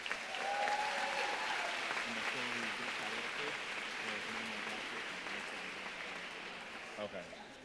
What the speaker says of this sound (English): Can I get a round of applause for all NPAC organizations?